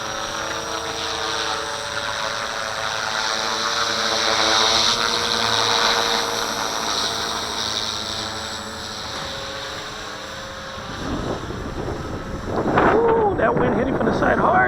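A V450D01 RC helicopter hovers in strong wind with a loud, steady rotor and motor whine that swells and dips under heavy wind buffeting on the microphone. A voice breaks in briefly near the end.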